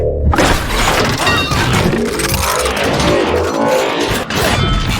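Dense, layered Transformers sound design cue for theatre and film, loud and continuous, with shattering, crashing, metallic mechanical clanks and impacts piled over a heavy low rumble, with no voices.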